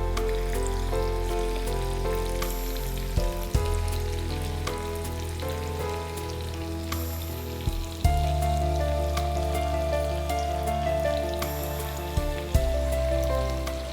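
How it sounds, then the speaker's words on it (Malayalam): Crispy vermicelli vada fritters deep-fry in hot oil over a high flame, a steady close bubbling sizzle with a few sharp clinks from a utensil and no voices. "നല്ല കരികരിപ്പായിട്ട് ഇങ്ങനെ വറുത്ത് കോരാം."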